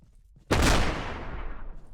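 A sudden loud explosion in the traditional roguelike game SotS: The Pit 2 bursts in after a quiet moment and then decays into a long rumbling tail.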